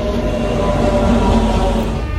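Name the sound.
arriving passenger train, Bhagirathi Express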